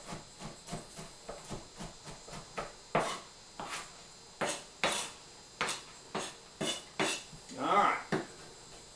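A knife chops nuts on a cutting board in a home kitchen, giving a steady run of sharp, close strikes with a brief spoken word near the start.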